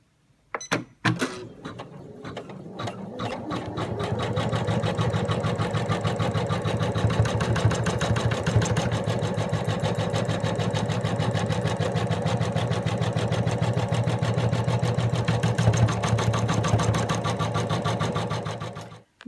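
Sewing machine stitching around fabric flaps, a fast steady mechanical rattle that starts after a few clicks and runs continuously and close, alone without talk.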